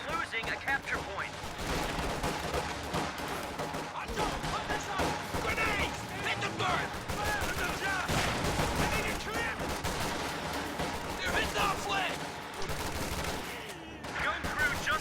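Dense machine gun bursts and booming artillery fire from a World War II strategy video game battle, sustained and overlapping, with someone commentating over the gunfire throughout.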